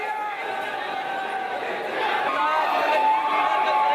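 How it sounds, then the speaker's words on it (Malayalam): Crowd of cricket fans at Delhi airport welcoming the returning Indian team, a steady dense roar of cheering and excited chatter with whistles, loud and continuous, swelling slightly midway. "ബാലു, അവിടെ വല്ലാത്ത ആർപ്പുവിളികളും ആഘോഷ തിമിർപ്പിലും ഒക്കെയാണ്"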